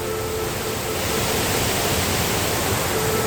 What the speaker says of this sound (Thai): นี้น้ำไหลมาจากน้ำตกพรมโลกครับ